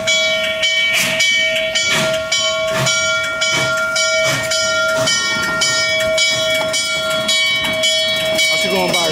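A steam locomotive on the Strasburg Rail Road, 71 years old, pulls away with steady chuffing and hissing steam, and long sustained whistle tones ring loudly and close throughout.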